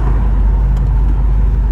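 Engine of a 1932 Ford Phaeton convertible with about 400 horsepower pulling along a bumpy road, a steady deep rumble heard close and loud from inside the open car.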